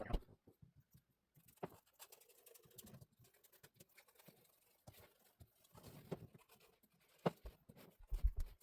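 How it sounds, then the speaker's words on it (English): Scissors or a blade snipping and trimming headliner fabric inside a 1991 Dodge Grand Caravan, heard as quiet, irregular clipping and rustling bursts with gaps between them, fairly close and faint. "it's all trimmed as far as I want to cut material off"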